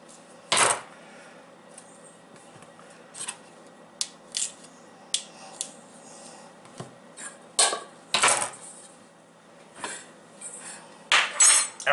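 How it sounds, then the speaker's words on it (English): A knife works the seed out of an avocado for guacamole, giving a series of sharp, separate metallic clicks and taps close by with quiet gaps between them. "Put the knife in there a little, and the seed, just turn it and the seed will come out"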